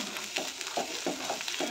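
Cabbage leaves fry gently in a pan on low heat, giving a soft sizzle with a few rhythmic stirring scrapes, quiet and close.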